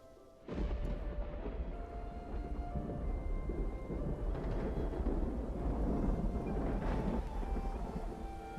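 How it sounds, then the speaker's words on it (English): Rain and thunder in the city-building game Songs of Syx: a steady broadband rain hiss with deep rolling thunder rumbles, starting abruptly and continuing loud and unbroken, with no voice over it. "Oh boy, it's raining."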